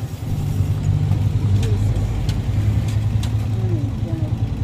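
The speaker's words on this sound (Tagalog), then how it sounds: "Sakay na ako ng tricycle at eto na." A motorized tricycle's steady, rumbling small engine drones throughout at close range, with a low idle hum and no speech.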